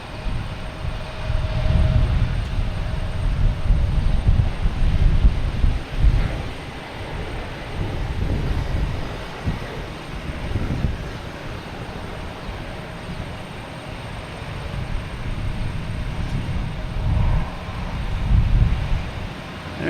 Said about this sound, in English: And a JetBlue taking off, heading to Buffalo